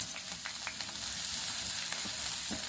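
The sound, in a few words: ivy gourd pieces frying in hot oil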